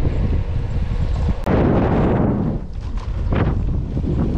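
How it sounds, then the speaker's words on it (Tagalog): Strong wind buffets the microphone on a road ride near Ragay, Bicol, in the Philippines, with a loud, continuous roar that surges and fades in gusts. "Lakas ng hangin."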